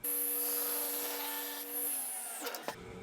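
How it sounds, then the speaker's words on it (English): A table saw rips a wood offcut while building a modern desk: a loud, steady high whine from the spinning blade, then a quick wind-down near the end. "Next, I'll adjust the fence to 3/4 inch and make another rip."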